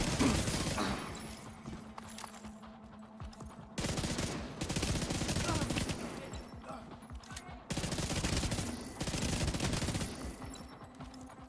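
Rapid bursts of automatic gunfire from a PvE shooter video game, loud and dense in repeated volleys with short pauses between them, over a low ambient hum.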